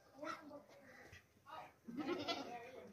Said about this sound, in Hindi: मोटा ताज़ा बकरा है ये बकरा